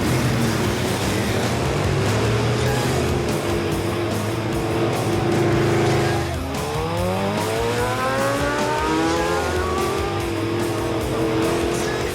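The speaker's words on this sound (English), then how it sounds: "V8 American engines. We buy spares, we bring spares from America." Classic American car with a V8 engine driving on a street in Cuba, its steady engine rumble loud and close for the whole stretch, with rising whine-like tones partway through as it revs and accelerates.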